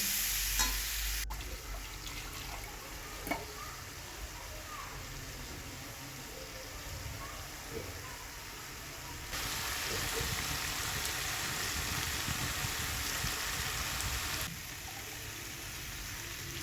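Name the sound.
spice paste frying with potatoes for rohu fish curry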